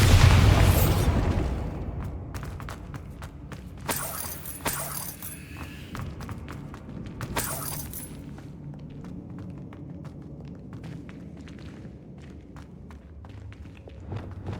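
Bombarda spell explosions in the video game Hogwarts Legacy: a heavy burst at the start, then sharper blasts and debris crackles a few seconds apart over a low rumbling background, with no talk.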